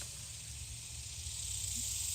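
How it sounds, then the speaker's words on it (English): Cicadas drone outdoors in a continuous, even, high-pitched hiss that holds steady, faint and distant with no talking. "Those not snakes. Those are cicadas."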